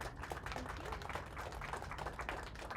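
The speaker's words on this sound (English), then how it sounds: "Please give Ruby a round of applause" Applause from the audience for Ruby at a WWI homecoming centennial commemoration, a steady, dense patter of many hands clapping that runs for about three seconds at moderate volume.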